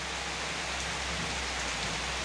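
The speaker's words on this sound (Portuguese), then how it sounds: "E a chuva agora tá ficando mais forte ainda." Heavy rain pouring down in the countryside of Palmeira dos Índios, Alagoas, a dense, steady broadband roar of drops with no other sounds.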